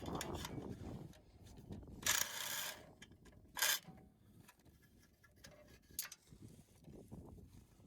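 Bolts and nuts being taken off the oil pan of a Toyota 1AZ-FE engine, with soft ratcheting and mechanical clicks plus a few brief, sharper rattles and scrapes, close and fairly quiet.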